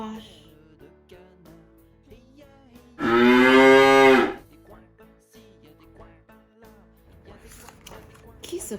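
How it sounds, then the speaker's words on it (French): A cow moos once, a loud, drawn-out, close call lasting over a second, with quiet surroundings before and after. "Une vache."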